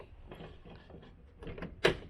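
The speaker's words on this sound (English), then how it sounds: "So let's get this door closed again." A door in a Japanese garden path at Todoroki Ravine Park in Tokyo swings shut, with low rustling and shuffling before one sharp thud near the end, close by.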